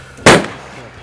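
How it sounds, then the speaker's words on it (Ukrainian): A single loud, sharp rifle shot at a long-range precision shooting tournament with targets 516 metres away, cracking close by and then decaying quickly into a quiet outdoor background. "6 пострілів, 3 влучання."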